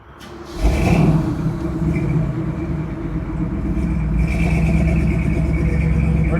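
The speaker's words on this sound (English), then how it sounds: "we're taking the Camaro out and we're going to take it down the freeway for you" A 1967 Camaro convertible's engine starts up and settles into a loud, steady rumbling idle as the car pulls out, with a deep throaty drone that swells a little near the end.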